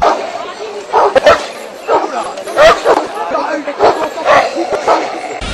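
Several Kangal dogs bark and yip in scattered bursts amid crowd noise and chatter at a festival dog show in Sivas, Turkey, loud and fairly close.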